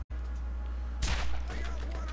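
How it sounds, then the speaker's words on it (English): Enemy gunfire in the video game Borderlands: a loud, dense burst of shots about halfway through, over steady game background noise, trailing off into scattered quieter reports. "I'm getting shot at?"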